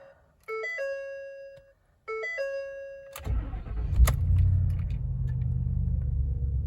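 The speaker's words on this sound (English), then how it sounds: "Truck started great." A Ford Super Duty 6.2L truck with a newly replaced starter gives two electronic chime sequences, then cranks and catches with a loud rev before settling into a steady deep idle rumble, with no talking.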